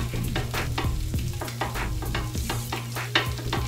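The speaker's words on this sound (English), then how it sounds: "Rice is frying up nice" Rice fries in a hot pan while being stirred, a steady sizzle broken by repeated scraping strokes of a utensil at a quick, uneven rhythm, close and alone.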